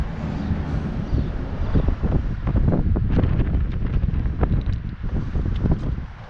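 Steady breeze buffets the microphone with continuous low rumbling gusts while the hood of a 1997 Dodge Viper RT10 is opened outdoors, loud and constant throughout.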